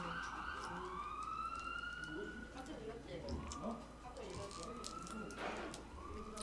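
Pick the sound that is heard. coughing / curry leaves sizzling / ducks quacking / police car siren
police car siren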